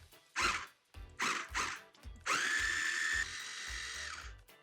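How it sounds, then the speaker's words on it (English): A food processor pulses chopped vegetables for a meat sauce: several short whirring bursts, then one longer steady run, loud and close with brief gaps between pulses. "Pulse it until it's nice and combined and really minced."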